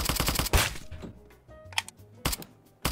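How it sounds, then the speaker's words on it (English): Sharp shots crack from an A2 rifle in the Roblox game Apocalypse Rising 2: a rapid burst opens, then single loud reports and short pairs follow at irregular intervals against near silence. "there's a kid shooting me with an A2"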